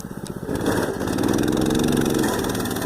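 A small minibike engine runs close and loud during a wheelie, a rapid pulsing buzz that rises as it is throttled up and then holds steady.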